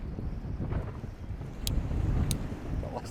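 Strong coastal wind buffets the microphone on a fishing boat in a continuous low roar, gusting louder midway, with faint sharp clicks scattered through it.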